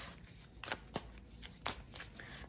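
Tarot cards being shuffled and pulled, soft close riffling and several crisp slapping flicks of the deck, quiet with no talk.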